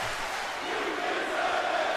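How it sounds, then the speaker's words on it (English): Video game crowd in a WWE 2K19 wrestling match, a steady dense roar of many voices chanting in unison, loud and continuous throughout with no distinct talk over it. "you can just hear the crowd chanting in unison"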